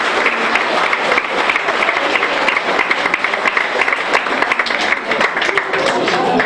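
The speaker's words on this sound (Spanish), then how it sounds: "Un fuerte aplauso." Loud, dense applause from a festival crowd at a town fiesta presentation, continuous and close, filling the whole stretch with a steady roar of clapping.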